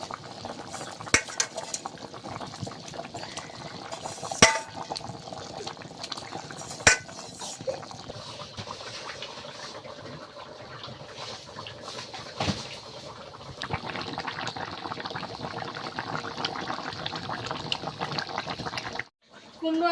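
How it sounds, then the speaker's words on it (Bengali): Pieces of fish go into a pumpkin and fish curry that is already bubbling in the pot, with steady simmering and liquid sounds, a few sharp clinks of a utensil against the pan, and quiet talk in the background. "এবার মাছগুলো দিয়ে দেবো।"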